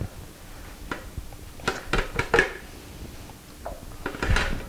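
An asparagus macaroni loaf being dumped out of its pan, with a cluster of clattering knocks and scrapes of the pan in the middle and a softer thud near the end, close and moderately loud.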